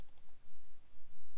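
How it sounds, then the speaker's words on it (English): A computer mouse double-clicks on a contact in Skype, a few sharp close clicks near the start over a quiet room background. "so I'll just double click on that"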